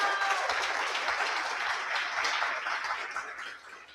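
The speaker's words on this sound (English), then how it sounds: "We can also give her a big round of applause." Audience applause at a tech bootcamp demo day for AI software and data science projects: dense, steady clapping from a full room that holds for about four seconds and fades slightly toward the end.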